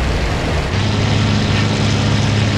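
A propeller fighter's engine roars loudly and continuously in the flight-sim game IL-2 Battle of Stalingrad, a dense, steady drone with a slight shift in pitch partway through.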